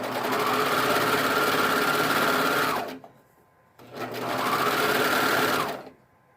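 A sewing machine stitches swimsuit fabric in two steady, loud bursts of rapid mechanical whirring, each about three seconds long and separated by a short quiet pause. There is no talking over it.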